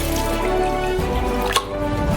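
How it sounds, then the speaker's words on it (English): Tap water runs into a saucepan in a close, steady splashing stream, with a small clink near the end and no speech. "Therefore, we fill it up with water"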